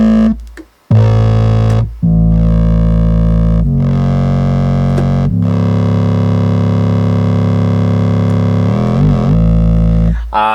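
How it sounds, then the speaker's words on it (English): A simple sine sub bass from Sub Lab XL, run through effects, plays loud sustained low notes in a steady pattern with brief gaps, alone without any talking. "simple sine sub, and it sounds like this."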